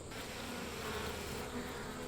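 Dense, continuous buzzing of many honeybees swarming close around a beehive frame during a hive inspection, steady and unbroken, with no talking.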